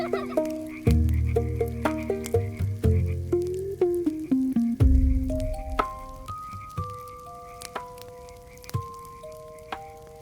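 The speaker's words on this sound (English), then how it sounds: "The frogs!" Frogs croak in a loud, close chorus of repeated sharp, ringing calls that overlap and pulse unevenly, with no talking.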